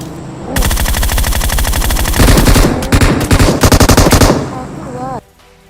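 Loud automatic machine-gun fire rattles in rapid sustained bursts in a mobile shooter game, with dense overlapping shots that break into choppier volleys before cutting off abruptly.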